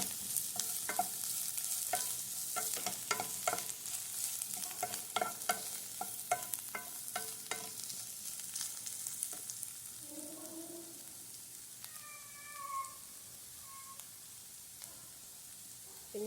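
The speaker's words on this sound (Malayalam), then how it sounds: "ഇളക്കി കൊടുക്കാം" A spoon stirs cauliflower masala thoran as it fries in a pan, giving a run of scraping, knocking strokes over a soft sizzle, then quieter frying with a few brief tonal squeaks near the end and no talking.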